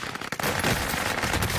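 Dense automatic gunfire from a video game, loud continuous bursts of rapid shots with crackling reports, sustained throughout with no talking.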